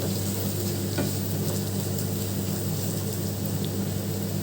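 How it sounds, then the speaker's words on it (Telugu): Talimpu tempering fries in hot oil in a pan, a steady close sizzle with faint stirring scrapes, alone and even throughout. "ఈ తాలింపు బాగా ఫ్రై అయితేనే ఆ కర్రీకి టేస్ట్ బాగా వస్తుంది"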